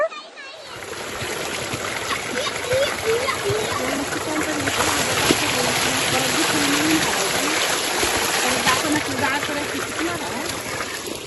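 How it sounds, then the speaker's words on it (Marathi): A village stream in Konkan flows in a steady, close rushing wash of water with splashy texture, continuing throughout while voices, including a child's, talk over it. "आता झऱ्याचं आपण फर्स्ट टाइम दर्शन घेऊया"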